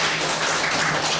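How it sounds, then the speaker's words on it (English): An audience at a West Nile meeting of district officials and council chairpersons applauds in a dense, continuous wash of clapping, loud and steady for the whole moment with no voices over it. "Let's clap for them again."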